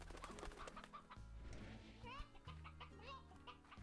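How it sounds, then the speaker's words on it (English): Hens and young chicks cluck in a coop, soft irregular clucks mixed with low background hum while people talk nearby. "Let's see the chickens."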